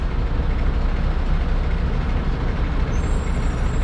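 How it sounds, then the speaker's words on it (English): A truck's air compressor runs with a loud, steady mechanical drone that drowns out the engine, continuous and close, with a faint high whine toward the end. "It's not the engine noise, it's actually the air compressor."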